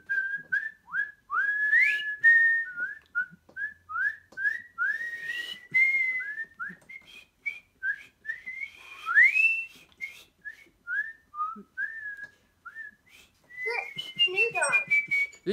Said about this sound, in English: This chicken's good at whistling.